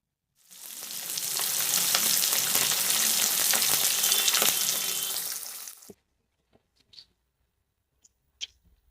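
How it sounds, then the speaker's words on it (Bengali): Three pieces of rui fish hit hot oil with a loud, dense sizzle that runs for several seconds and then cuts off, followed by a few faint clicks and taps. "সব মাছগুলো একবারে দিয়ে ভাজবো না, আগে 3 পিস দিয়ে দিলাম।"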